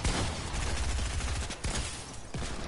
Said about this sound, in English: they're fucking shooting you